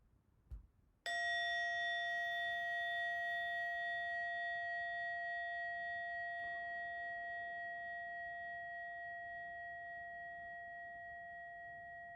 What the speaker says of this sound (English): in a moment, you'll hear a bell or a chime. Listen to it as it gets quieter and quieter